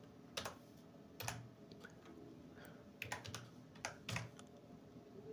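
Fingers type on a computer keyboard, entering a website name into a browser: quiet scattered key clicks in small irregular bursts, close by, with no talking.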